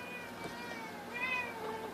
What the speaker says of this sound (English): It's my cat in the background being a butt.